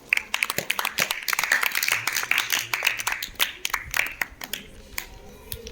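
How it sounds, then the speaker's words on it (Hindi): A classroom of students claps together in a burst of quick, loud hand claps that continues for several seconds and tapers off toward the end. "ताली बजा दीजिए।"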